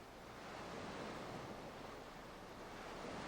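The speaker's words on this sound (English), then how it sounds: "A deep blue sea murmurs through the rolling surf." Ocean surf rolls and hisses in a steady, broad wash of breaking waves, faint and continuous with no voices, a soft wind-tinged roar throughout.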